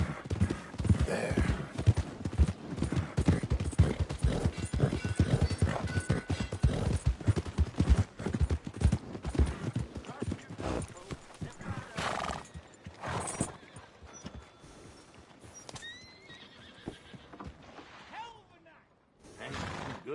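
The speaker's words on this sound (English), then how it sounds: "Good-looking horse there." A horse in Red Dead Redemption II clip-clops with steady hoofbeats, then neighs loudly, with character dialogue spoken alongside before the hooves fade and the scene quiets.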